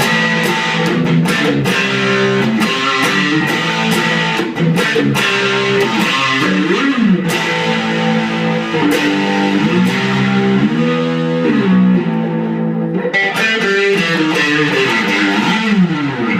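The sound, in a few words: electric guitar through valve distortion pedal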